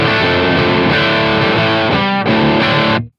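An electric guitar played through an Orange OR15 amp, gain pushed up so the tone breaks up into crunchy distortion; chords ring out loud and alone, then a final strum cuts off abruptly.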